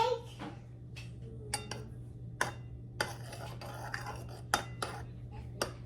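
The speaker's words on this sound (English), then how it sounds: "then we're just going to take our spoon and just swirl it around" A spoon swirls food coloring into Cool Whip in a bowl, producing a series of sharp, separate clinks and taps against the dish over a low steady hum.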